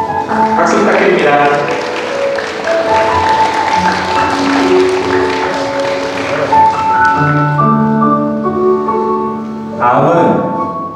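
Wedding guests give a broad round of applause over loud sustained music, and the clapping dies away as the music carries on alone.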